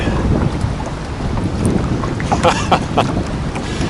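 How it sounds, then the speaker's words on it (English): Strong gusty wind roars and buffets close to the microphone, rumbling loudly in rough surges for the whole stretch. "This wind."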